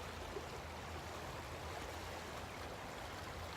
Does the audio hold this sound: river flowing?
yes